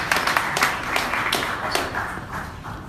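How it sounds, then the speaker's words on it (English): An audience at a travel industry summit in New York applauds a presenter, loud close clapping with distinct sharp claps standing out from the crowd, steady for a few seconds and easing slightly at the end. "Give him a round of applause, everybody."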